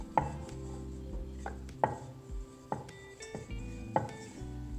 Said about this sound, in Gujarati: આ રીતે આમ પૂરી વણી લેવાની